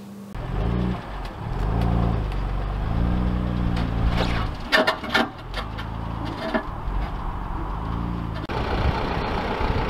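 Vehicle engine running steadily nearby as a trailer carrying a crashed BMW M2 Competition pulls away, with a rumbling low drone, some brief clatter midway, and rising road noise.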